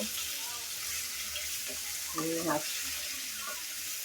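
Steady crackling sizzle of rohu fish pieces frying in hot oil, with a brief clatter of utensils partway through.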